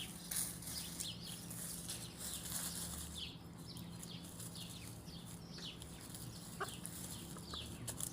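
Chickens cluck and stir in a new coop with a red-and-white rooster among them, soft scattered calls and rustling over a faint steady background, fairly distant and quiet.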